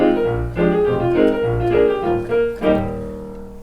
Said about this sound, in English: It is a digital piano but being played pneumatically,